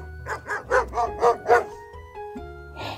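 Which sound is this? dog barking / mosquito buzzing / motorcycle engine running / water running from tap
dog barking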